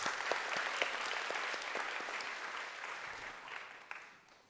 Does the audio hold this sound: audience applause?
yes